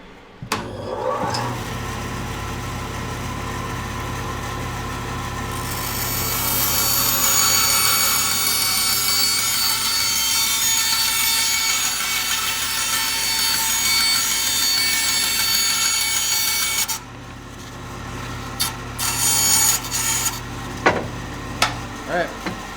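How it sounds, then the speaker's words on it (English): A bandsaw cuts a wooden trolling motor mount for a kayak, a steady motor hum under a bright hissing cut lasting several seconds, followed by a few clattering knocks once the saw winds down. "So I might run this over to the bandsaw, maybe just curve it off a little bit so there's no sharp edge"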